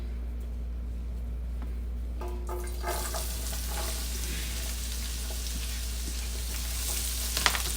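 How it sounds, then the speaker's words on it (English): Onions going into a hot pan while cooking beef bourguignon, a hiss that jumps to a loud, steady sizzle partway through and keeps bubbling with faint stirring clatter, no talking. "I'm going to add my onions in."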